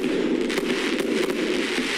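A 100-shot fireworks cake fires in a dense, continuous crackling barrage of rapid bursts, loud and close, with no talking over it.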